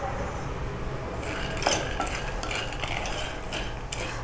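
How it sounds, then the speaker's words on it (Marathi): Peanuts dry-roasting in a pan for Maharashtrian Sankranti tilgul are stirred continuously, giving a steady scraping and rattling of nuts and utensil against the pan with a few brighter clinks, with no talking. "आपले शेंगदाणे छान भाजून झालेले आहेत."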